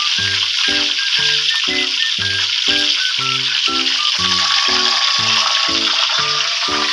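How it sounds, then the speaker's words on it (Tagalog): Chicken sizzles and fries steadily in a pan, a constant loud crackle with a rhythmic pattern of clinks or stirring knocks running beneath it, and no talking. "So, luto muna tayo ng chicken."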